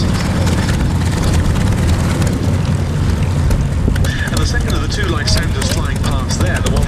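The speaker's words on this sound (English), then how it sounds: "And the second of the two Lysanders flying past" A Westland Lysander, one of two at the Duxford Battle of Britain airshow, flies past with a loud, steady propeller drone mixed with heavy wind buffeting on the microphone.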